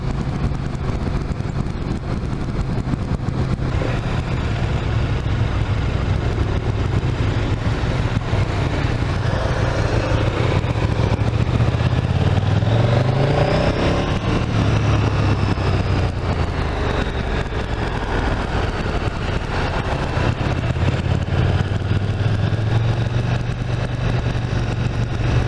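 A KTM motorcycle engine drones steadily while riding, a loud continuous mid-pitched roar with wind rush and gentle rises and falls in revs, no talk over it.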